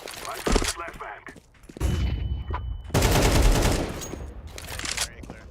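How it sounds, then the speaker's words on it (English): A flashbang thrown in a multiplayer shooter bursts loud and harsh amid several broadband blasts and crackling gunfire-like bursts, one long burst sustained for over two seconds. "I'm throwing a flashbang"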